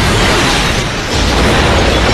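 A motel blows up in a film scene: a loud, dense, continuous roar of blast and rumble that fills the whole moment without letup.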